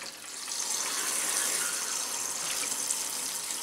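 Water from a sink tap runs in a steady, hissing stream onto a CBRN protective suit, splashing continuously at close range with no talk over it.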